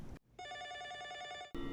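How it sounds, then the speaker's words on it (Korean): Telephone ringing in an office in a TV drama, a single electronic ring burst after a short gap, faint overall and set between other sounds. "사이퍼의 사무실에 전화가 오죠."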